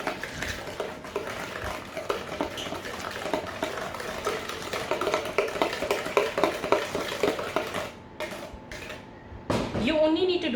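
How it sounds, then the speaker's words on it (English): Whisking vegan banana bread batter in a mixing bowl, a steady busy stir of whisk against bowl that runs nearly continuously at close range, with a few brief pauses near the end. "I'm going to take my whisk and I'm just going to combine this together"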